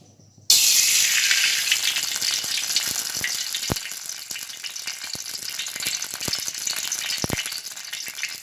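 Sweet oil sizzles and crackles steadily after being poured into a preheated pan on a gas stove, a sudden loud onset that settles into continuous hissing with a few sharper pops.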